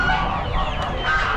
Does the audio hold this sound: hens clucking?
yes